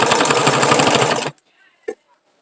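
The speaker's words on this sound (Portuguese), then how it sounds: "Segura firme, cuidado pra não se machucar. E vem costurando, ó." Sewing machine stitching fabric scraps for a rug: a loud, fast, steady mechanical whir with rhythmic needle ticks for over a second, then it stops, followed by a brief faint voice.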